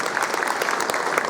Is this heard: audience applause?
yes